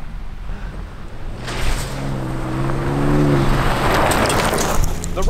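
A 2024 Ford Ranger Raptor engine in off-road Baja mode rumbles and swells in a rising rev, growing louder and coarser as it builds toward the end.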